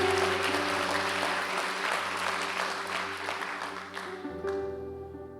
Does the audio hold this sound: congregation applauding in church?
yes